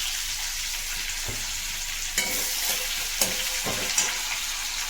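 Onion hitting hot oil already tempered with cumin seeds, dried chili and bay leaf for mutton-trimming ghugni, giving a steady close sizzle with a few stirring clatters and spatula knocks and no talk.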